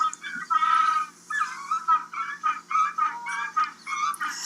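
Penguins related to the black-footed (jackass) penguin braying, a series of harsh, nasal, honking calls in rhythmic bursts, close and loud, with short pauses between phrases.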